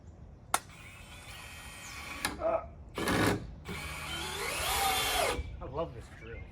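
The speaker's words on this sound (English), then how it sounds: "I love this drill. That's a great drill." A power drill whirs in several bursts of varying length, starting and stopping with short pauses between, loud and close.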